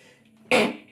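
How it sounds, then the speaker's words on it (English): A single sudden burst of breath, sharp and close, cutting briefly through quiet background murmur before fading. "Oh, excuse me, that's a sneeze"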